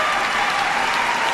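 A packed figure skating arena in Graz erupts in loud, dense applause and cheering after Dmitri Aliev's free program, a continuous roar of clapping filling the whole clip.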